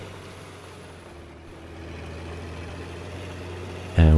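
A truck in a trucking video game rumbles along with a steady, low engine drone that slowly grows louder, then a sudden louder burst right at the end.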